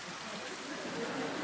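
Steady rain falls outdoors at an open-air gathering in Rishikesh, a soft continuous hiss of drops with no distinct voices over it.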